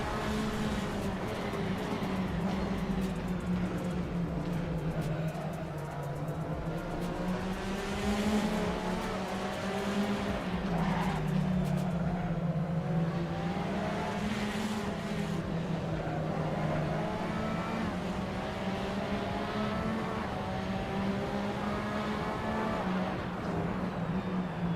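Race car engine droning continuously in a racing simulator game, pitch rising and falling with gear changes and corners, loud and close throughout with no talking.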